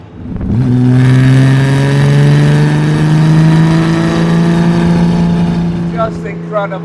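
A £30,000,000 classic racing car engine accelerating through a chicane, a loud close rising wail that climbs and holds, with a brief stutter toward the end.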